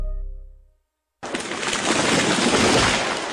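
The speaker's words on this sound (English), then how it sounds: "That was the sound of a tree falling." A sudden loud crashing roar of breaking wood and debris erupts after a brief silence, sustained and dense until the end.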